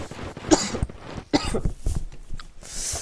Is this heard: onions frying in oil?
no